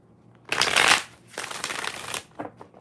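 Tarot cards are shuffled by hand in two close, crisp riffling bursts, the second longer, followed by a few soft card taps, with no talking.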